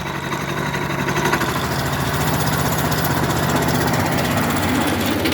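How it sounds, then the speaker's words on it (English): A 13hp Honda petrol engine on a Logic flail mower roars loudly and steadily at high revs, close by, with a rough mechanical rattle and vibration throughout. "Let me just give this a bit of a rev, and the flails then will kick in"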